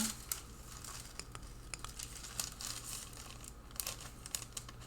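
Wax paper is handled and crinkled close by, giving a string of sharp, papery crackles and rustles at an irregular rhythm, with a low steady hum beneath.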